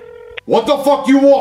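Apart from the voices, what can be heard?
telephone number being dialed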